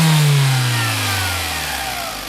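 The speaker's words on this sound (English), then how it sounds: "I'm gonna go ahead and give it a little rev here." Engine of a 1992 Toyota Celica GT with a 2.2L four-cylinder and five-speed manual, revved once then falling smoothly back toward idle, close and loud throughout.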